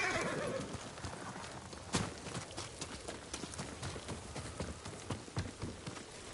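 Hoofbeats of Kage, a horse in the Ghost of Tsushima video game, pound in a steady galloping rhythm, with a whinny near the start and faint rain-like hiss underneath.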